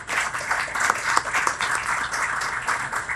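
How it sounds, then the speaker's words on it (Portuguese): Audience at a medical lecture on thoracoabdominal aortic disease applauds a pioneering surgeon, moderate clapping that swells and ebbs over a few seconds, fairly soft and somewhat distant. "Peço uma salva de palmas."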